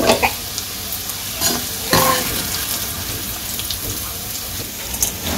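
Onion and green chili fry in a pan while being stirred, giving a steady close sizzle broken by scraping stirs, with no talk over it.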